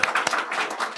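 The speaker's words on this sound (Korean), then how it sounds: "우리 이래에게 우리 감사의 박수를 드립시다." Congregation applause during a Sunday church service at a Korean Church of Christ in Daegu, a short burst of dense clapping filling the room, fairly close and steady throughout.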